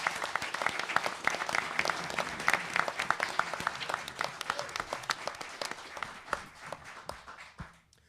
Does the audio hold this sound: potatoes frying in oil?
no